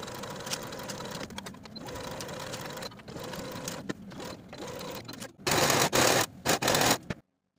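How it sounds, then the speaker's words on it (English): A sewing machine stitches sleeves onto a dress bodice in a series of rapid mechanical bursts with brief pauses between them, growing loudest in a final fast run near the end before it stops. "Sew both of your sleeves to the bodice with a 3/8 inch seam allowance"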